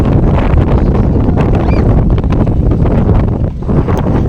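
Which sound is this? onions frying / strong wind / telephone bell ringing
strong wind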